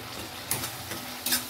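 Tomato masala fries gently in oil, a soft low sizzle punctuated by two or three brief scraping stirs of a spoon against the pan.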